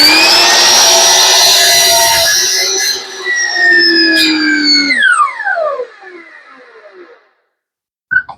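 An electric miter saw cutting wood whines loudly at a steady pitch, then the blade spins down with a falling tone into silence, followed by a short sharp click.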